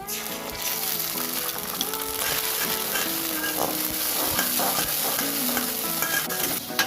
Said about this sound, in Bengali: এবার আমি দিয়ে দিচ্ছি রেড চিলি সস।